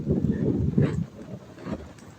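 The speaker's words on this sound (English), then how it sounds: "Wow, it's windy." Strong gusty wind buffets the microphone outdoors on an August day, a low rumbling roar that swells and eases in uneven gusts with no voices.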